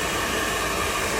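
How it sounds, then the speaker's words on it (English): A handheld dryer blows steadily on a dog's coat during grooming, a constant loud broadband whoosh of air with no breaks or changes. "while you've got your dryer going with your slicker"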